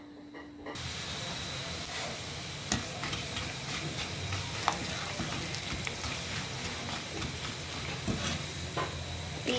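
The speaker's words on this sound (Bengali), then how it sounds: "ইজি হচ্ছে চিপস ভাজা" Potato chips fry in hot oil with a steady, busy sizzle and bubbling crackle. Occasional sharp pops and stirring scrapes break through, and the sound holds close and even throughout.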